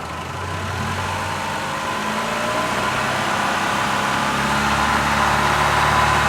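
A Chrysler PT Cruiser engine being diagnosed for a cylinder misfire runs steadily and loud, its hum gradually rising as the RPM is raised, heard alone with no talk.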